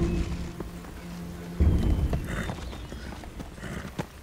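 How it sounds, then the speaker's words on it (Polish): Hooves of a riderless, bloodied horse clip-clop in a dramatic scene, a few distinct hoof strikes standing out against a low rumbling background, fairly close and moderately loud with no speech. "Jest zakrwawiony koń bez jeźdźca."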